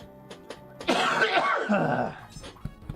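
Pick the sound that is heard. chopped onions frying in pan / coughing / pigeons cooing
coughing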